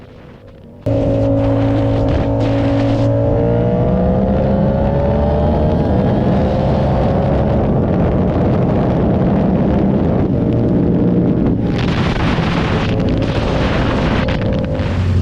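Two Yamaha sport bikes, an R6 and an R7, pull hard in acceleration, a loud continuous engine drone with rising pitch through gears and heavy wind buffeting, starting abruptly after a brief quiet lead-in.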